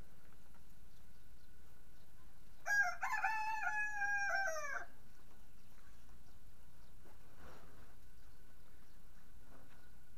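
A rooster crows once, a single long, clear cock-a-doodle-doo from a nearby rural spot in Surin, Thailand, set against otherwise quiet background with faint ambient noise.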